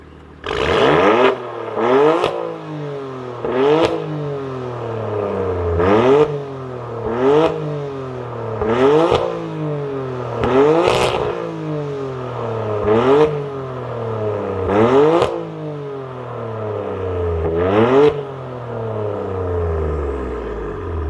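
A BMW F80 M3 fitted with an AWE SwitchPath valved exhaust revs repeatedly, about ten sharp throttle blips climbing and falling in a steady rhythm, loud and close with a deep rumble under each rise.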